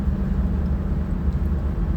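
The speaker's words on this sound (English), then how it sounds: "It's the school bus." A school bus rolls past on an early morning street in Ohio, a steady low engine rumble and road roar heard from nearby, with no talking.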